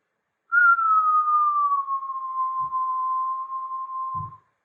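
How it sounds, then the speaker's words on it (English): A person exhales through pursed lips during yoga breathing, producing one steady, clear whistle that holds a nearly even pitch for about four seconds, with a couple of soft low thumps near the end. "You're going to exhale like you're whistling out"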